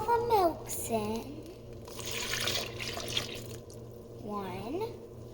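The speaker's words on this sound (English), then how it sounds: "now after the 15 minutes passed, we're going to pour all the milks in." Milk is poured into a pot of rice for arroz con leche in a home kitchen, a soft steady liquid pour running for a few seconds at moderate volume, with a voice talking briefly before and after.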